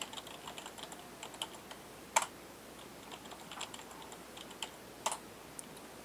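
Typing on a computer keyboard while setting up a file server account, giving quiet irregular key clicks with a few sharper louder taps, close by against a faint hiss, no voices.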